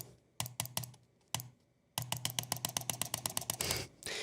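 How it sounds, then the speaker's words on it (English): A computer mouse clicks close up: a few isolated clicks, a pause, then a rapid run of about twenty sharp clicks in quick succession, with no voices. "the sound of a mouse clicking"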